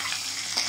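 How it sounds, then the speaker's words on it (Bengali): Egg curry masala fried in a pan with fried eggs, a steady close hiss of sizzling oil with a faint stir near the end, brief and unbroken. "তো দেখো ডিমটা ভেজে ডিমের মশলাটা কষিয়ে নিচ্ছি"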